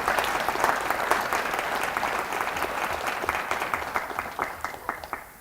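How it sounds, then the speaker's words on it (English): Audience applause for a series of presentations at a university MLK Day focus session on race, steady crowd clapping that thins into scattered individual claps toward the end. "can we give a round of applause to all of the presentations we've heard so far?"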